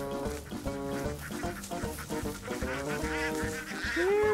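Ducks or geese at a kampong, a steady run of honking calls close by, loud and repeated throughout.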